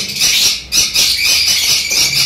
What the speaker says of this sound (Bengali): লফটে ছেড়ে দেওয়া আমার এই পাখিগুলো